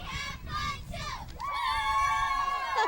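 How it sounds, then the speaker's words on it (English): A children's dance group from a city park and recreation dance program chants a practiced cheer at a parade, with high young voices shouting together over a continuous crowd murmur and the group cry rising and holding near the end. "They've got a cheer they've been practicing."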